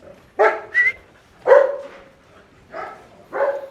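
Several loud, close dog barks, some sharp and high-pitched, come in short bursts separated by brief pauses.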